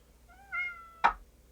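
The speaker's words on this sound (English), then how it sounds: "That is the cat." A cat meows once, a short rising-and-falling call heard close and clear, then a sharp knock-like thud right after, all against a quiet background.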